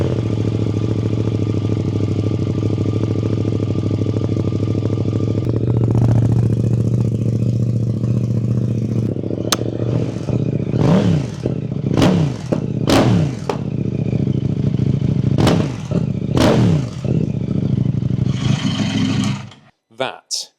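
A KTM 990 RC R race motorcycle with an Akrapovic exhaust runs loud and deep, steady at first, then a series of sharp revs blips repeatedly before cutting off near the end.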